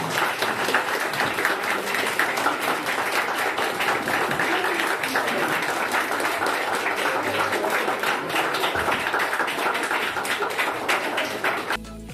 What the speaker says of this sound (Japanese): 皆さん最後大きな拍手を送ってもらっていいですかね